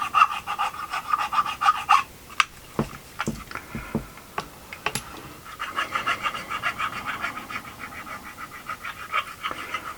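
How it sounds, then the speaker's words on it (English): A hand saw rasps back and forth in quick, uneven strokes through a Hi-Point pistol frame, close and moderately loud, with sharp scrapes at first. "Sawing away the HiPoint."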